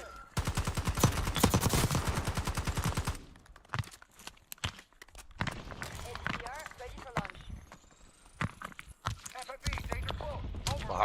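Rapid automatic gunfire bursts from the Black Ops 6 video game, loud and dense at the start, then scattered shots and game effects continue with a player talking over them.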